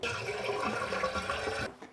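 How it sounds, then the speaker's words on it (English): Water runs steadily into a toilet tank as the fill valve refills after a leaking flush valve lets the level drop, a close, hissing, gurgling rush that cuts off abruptly near the end. "If you hear water running intermittently,"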